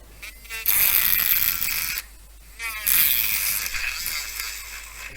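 A nail drill fitted with a small bit grinds on a model FDNY fire truck cab, two loud high-pitched whirring bursts of about one to two seconds each, separated by short pauses, close to the listener.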